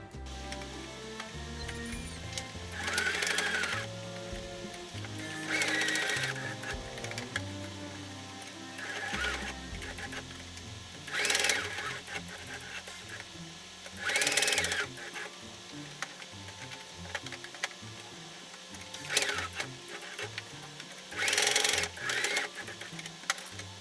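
A sewing machine stitches two fabric bow pieces for a pet collar, running in several short whirring bursts of rapid needle clatter separated by quieter pauses, close and fairly loud with no talking.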